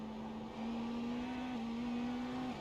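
On-board engine of an Indy NXT race car in the iRacing sim, a steady loud droning tone held at near-constant pitch with a slight rise, nobody speaking.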